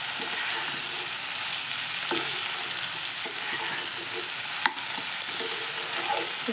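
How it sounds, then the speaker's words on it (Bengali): Pointed gourd and potato pieces with turmeric being stirred in a pan: a steady frying sizzle with a few sharp spoon scrapes and taps against the pan, close and continuous, with no talking. "হলুদ গুঁড়োটা দিয়ে একসঙ্গে একটু ভালো করে মিশিয়ে নেব।"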